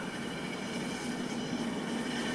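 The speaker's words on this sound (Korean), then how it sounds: "오늘 제 카메라는 기차를 탔습니다." A train rolls along a seaside line near Jeongdongjin Station in Gangwon-do, a steady, even rumble with a faint hum and no clear wheel clacks.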